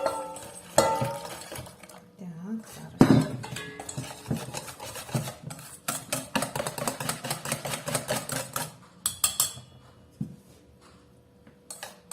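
A utensil clinks and scrapes in a bowl in irregular bursts, up close, as powdered milk is stirred into warm water, with a brief murmur of voice.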